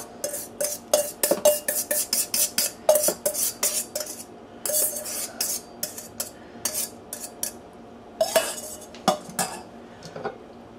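Clinks and clatter of cutlery and dishes as ingredients for honey bourbon chicken are tipped and scraped into a crock pot, a steady run of sharp, close metallic taps with a brief pause midway.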